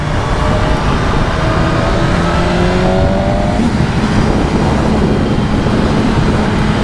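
A BMW S1000RR motorcycle engine pulls hard through its rev range, a loud, continuous high-pitched whine rising steadily under heavy wind rush.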